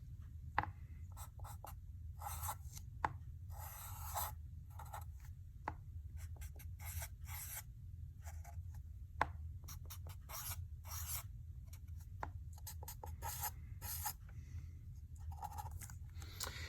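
A pen scratches steadily on a writing surface while hydrogen atoms are drawn for a biology chemistry lesson. The strokes are quick, close and irregular, with short pauses between them, and no one talks.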